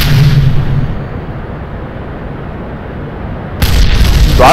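A rocket lifts off at full throttle in Kerbal Space Program with a loud, sustained roar. The roar dips slightly partway through, then surges again near the end.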